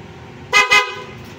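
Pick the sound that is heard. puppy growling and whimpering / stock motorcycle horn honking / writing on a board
stock motorcycle horn honking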